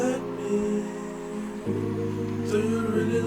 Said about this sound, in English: the final sample sounds like this